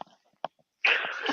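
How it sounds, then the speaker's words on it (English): A single sneeze on a live radio show, a sudden loud burst after a couple of quiet sharp breaths, close to the microphone. "Are you done sneezing in our ears"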